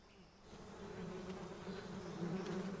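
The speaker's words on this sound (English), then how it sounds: "You can drop a bee's nest on him to kill him." Bees swarm out of a nest in Metal Gear Solid Delta: Snake Eater, a dense, steady buzzing drone that swells slightly louder and holds close throughout.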